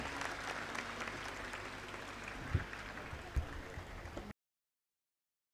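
An audience claps together through a guru worship ceremony at a spiritual camp in Prayag, the steady dense applause running about four seconds with a couple of sharper low thumps before it cuts off into silence.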